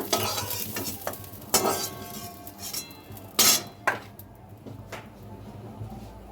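Fried cauliflower is lifted out of a wok of hot oil, with a spatula clinking and scraping against the metal over a steady sizzle and several loud, sharp metallic knocks.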